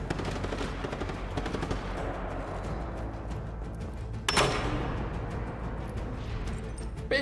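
Machine gun fire in the Just Cause 3 video game, a sustained rapid rattle of automatic shots under dense battle noise, with a sharper louder burst midway.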